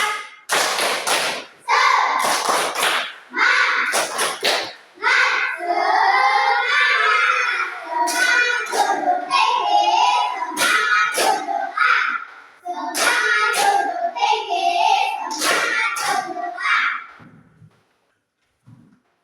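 Children shout a rhythmic tepuk semangat chant in a classroom, with sharp bursts of clapping and chanted voices that run in phrases for about seventeen seconds before fading to silence.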